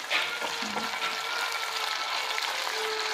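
Tomato and chili added to hot oil for a squid ink dish, a steady close frying sizzle with a faint clatter at the start.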